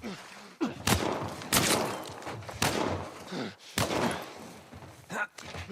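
Flashbang grenade in The Last of Us, several sharp loud bangs and thuds at uneven intervals, close and punchy, with muffled game noise between them.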